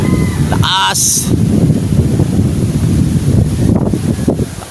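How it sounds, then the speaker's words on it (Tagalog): Strong wind blowing steadily outdoors near the sea, with a boat nearby, roaring and buffeting loudly throughout as people call out and talk over it. "Lakas ng hangin."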